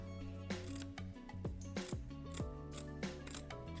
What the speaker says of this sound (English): This is where the sharp scissors come in handy.